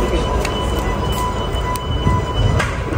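A Dubai metro train rumbles along with a steady low roar and faint rail hiss, heard from inside a carriage, continuous and fairly loud with a few brief high squeals.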